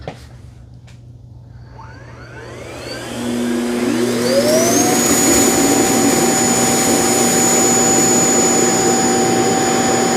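A Dreame D10 Plus robot vacuum's self-emptying dock starts up with a rising whine that ramps over a few seconds into a loud, steady roaring suction hum with a sustained high tonal whine, continuous to the end.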